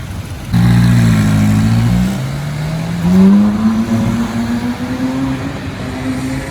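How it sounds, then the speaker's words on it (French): Matte grey Ferrari 458 sports car with black wheels passing on a Paris street, a loud engine roar that rises and shifts in pitch as it accelerates by, fairly near, no talk. "Première 458 que je vois sur Paris depuis un long moment."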